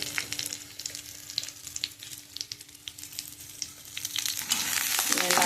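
Garlic and spices frying in oil in a pan for an Udupi-style jackfruit and Malabar spinach dish, a crackling sizzle with scattered pops that swells louder toward the end.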